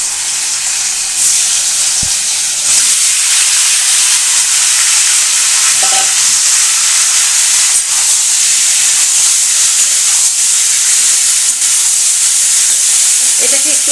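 Boiled potatoes with turmeric frying in hot oil in a kadai for Bengali aloo tarkari, a steady close sizzle and hiss running throughout with a few faint scrapes of stirring.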